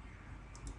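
Two quick, faint mouse clicks land close together as a checkbox is ticked in a Kubuntu installer, sharp and brief against a quiet background.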